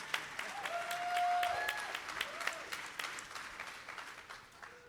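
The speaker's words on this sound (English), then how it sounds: "So clap for that shit." Scattered audience clapping at a keynote discussion and performance, fairly faint and loose, with a few sharper individual claps and some whoops or tonal cries rising over it.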